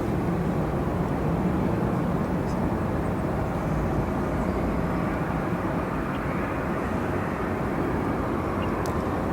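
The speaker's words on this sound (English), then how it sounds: "That Korean Air 777 arriving from Anchorage." A Korean Air Cargo Boeing 777 arriving from Anchorage at O'Hare airport gives a steady, loud, broadband jet-engine roar that holds throughout.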